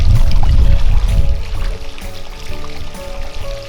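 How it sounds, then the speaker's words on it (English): A person treading water in a swimming pool sends up steady close splashing and sloshing from churning arms and kicking feet, continuous and fairly loud throughout. "the last skill that I'm going to be demonstrating is treading water"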